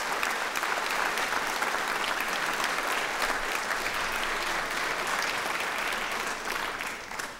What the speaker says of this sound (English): Let's give Dan and the folks at Nucor a great round of applause.